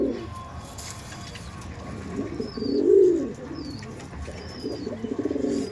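Several low cooing phrases from Madrasi pigeons kept for sale, the loudest near the middle, with thin high chirps from other birds and a steady murmur beneath.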